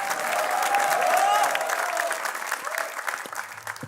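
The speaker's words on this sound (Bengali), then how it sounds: "আমরা জোরে একটা হাততালি চাই ফর বিপি সিজন 5" A studio audience breaks into loud, sustained applause at a Bengali talk show with the Bachelor Point team, dense clapping swelling early and then thinning toward the end.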